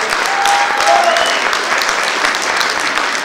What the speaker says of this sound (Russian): Зоя Паршина, ваши аплодисменты!